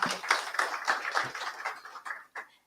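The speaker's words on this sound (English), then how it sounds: "A round of applause." An audience claps for panelists at the close of a business talk event, a run of sharp, uneven claps that thins out and fades near the end.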